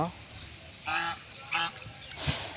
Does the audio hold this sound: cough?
no